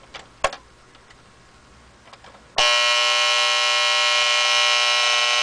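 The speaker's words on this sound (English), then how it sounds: "Now this is the normal buzz alarm, not the clock coming on." A few faint clicks, then a loud, harsh electronic buzzer alarm from a 1958 Motorola 5C18BW clock radio starts abruptly and drones on continuously at a steady level.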